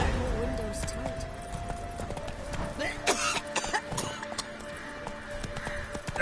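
Hooves of the horse Roach gallop in a steady clip-clop rhythm through The Witcher 3 on PlayStation 4 Pro, loud and close, with game voices talking over the hoofbeats.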